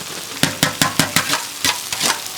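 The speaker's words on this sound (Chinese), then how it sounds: "一定要把那个酸菜给它炒香" Pickled mustard greens being stir-fried in a large wok with rapeseed oil and lard make a series of rhythmic scraping, tossing strokes over a low sizzle, about ten strokes in quick succession.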